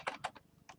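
Quick keystrokes on a computer keyboard, a short patter of four or five light clicks close up and fairly quiet.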